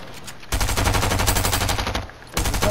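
Rapid automatic gunfire from the Fortnite video game rattles loud and sustained, with a brief lull before another burst resumes.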